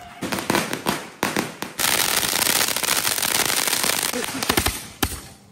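Rapid volleys of firecrackers bursting in loud, crackling strings during a Ganesh festival celebration, then a sustained roaring stretch followed by a few more sharp bangs, nearby.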